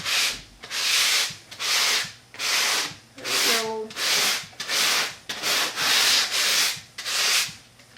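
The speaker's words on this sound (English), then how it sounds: "I'm gonna sand it again" Repeated back-and-forth sanding of painted upholstery fabric, about a dozen rhythmic rasping strokes, loud and close, with no talk.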